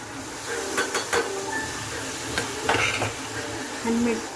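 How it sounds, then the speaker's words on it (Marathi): Green peas tipped into a pan of masala-coated paneer for paneer tikka, with a steady sizzle, several sharp clinks of a spoon against the pan and stirring scrapes, near and fairly loud. "आता त्याच्यात मटार टाकूयात."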